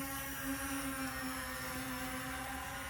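A small Ruko U11MINI camera drone hovers in flight with a steady, high whine of its propellers and motors, constant and moderately close without pauses or voices.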